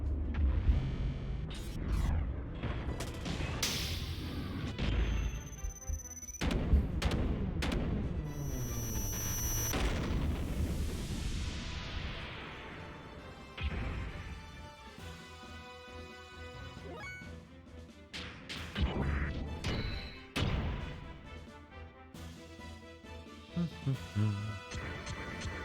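Cannon attack in the video game Xenogears, with a string of booms, crashes, whooshes and mechanical clanks over a game soundtrack, with loud impacts in the first half and quieter effects later.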